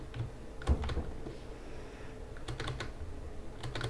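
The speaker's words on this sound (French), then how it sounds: "si vous entendez beaucoup les bruits de mon clavier" Soft, steady computer keyboard typing during a Minecraft game: rapid uneven key clicks with occasional louder strikes, close but quiet, no voices.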